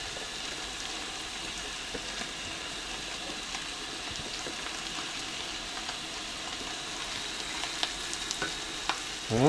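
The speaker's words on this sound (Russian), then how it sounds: "Они сейчас ужарятся, ребят," Mushrooms fry in a pan with bacon and butter, making a steady, close sizzle that crackles continuously, with a few small clinks near the end.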